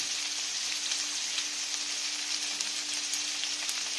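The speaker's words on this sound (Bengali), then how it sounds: "আর ওইদিকে দেখো, আমার মাছটা ভাজা হচ্ছে।" Fish sizzling steadily in hot oil in a home kitchen, a continuous close hiss and crackle with no voices.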